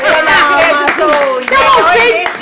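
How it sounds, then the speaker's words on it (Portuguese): Applause from a small audience at a podcast recording, light clapping running beneath loud talking and laughter from people close by. "Uma salva de palmas para o Luiz."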